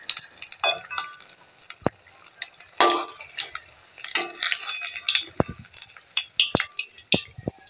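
Pieces of pointed gourd (potol) fry in hot oil with a steady crackling sizzle, broken by sharp clicks and scrapes of a utensil against the pan throughout.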